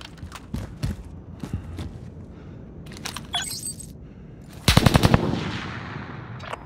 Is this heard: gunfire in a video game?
yes